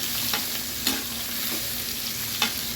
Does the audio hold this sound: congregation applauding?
no